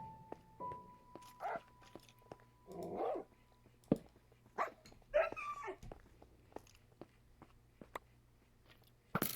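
Dogs in the Minecraft video game bark and whimper in short, scattered bursts, some near and some fainter, with game effects in between and no talk.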